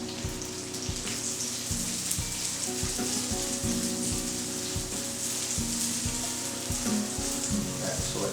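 Corn sautés in olive oil in a pan with a loud, continuous close sizzle, broken by regular scraping knocks as it is stirred.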